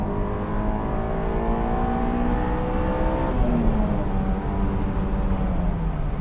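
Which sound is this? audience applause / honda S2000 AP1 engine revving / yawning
honda S2000 AP1 engine revving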